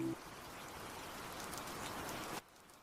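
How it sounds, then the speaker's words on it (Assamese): Rain falls steadily in an evening street scene, a soft, even hiss of drops on surfaces that runs unbroken before cutting off abruptly near the end. "বেইমান বৰষুণ যাক।"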